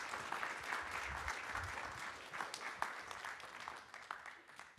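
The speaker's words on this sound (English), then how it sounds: "So let's give him a big applause to welcome Professor Haggard." Audience applause welcoming a professor before an academic talk on Korean politics, a dense, even wash of clapping that holds steady and tapers slightly toward the end.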